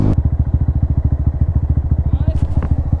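A Honda Grom motorcycle rides along with a rapid, steady thumping engine beat, loud and close, and a brief faint higher squeal near the end.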